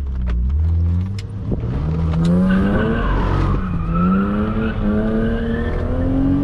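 A BMW E36 320i coupe engine roars at full throttle on a curvy road, pitch climbing through gear changes with tire squeal over a loud, continuous drone, close by.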